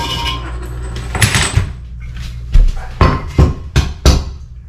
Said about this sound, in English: a couple whacks with the hammer